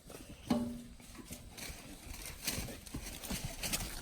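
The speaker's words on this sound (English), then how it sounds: "Oh, horses." Horses walk through mud outdoors with faint irregular hoof thuds and squelches, and one short whinny sounds early on amid background noise.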